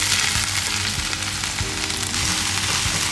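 Onions sizzle in a hot pan for chicken lollipop, a dense, steady crackle and hiss filling the whole moment at close range with no talking.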